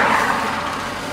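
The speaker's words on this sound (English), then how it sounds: "You've got the JCB working over there." A JCB digger works at roadworks, a steady, dense mechanical rumble and clatter of machinery heard continuously for just over a second.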